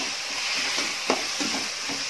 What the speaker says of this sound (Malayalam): തക്കാളി, പച്ചമുളക്, കരിവേപ്പില ഇത്രയും സാധനം ഇട്ട് കൊടുത്ത് നല്ലതുപോലെ വീണ്ടും ഇളക്കാം